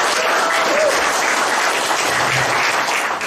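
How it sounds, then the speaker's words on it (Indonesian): An audience at an Eco Farming product knowledge seminar in Indonesia claps steadily and loudly for several seconds, a dense wash of hand claps with a faint murmur beneath. "Boleh tepuk tangan."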